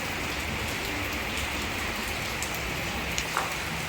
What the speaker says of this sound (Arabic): المهم هاي الشتا في مراكش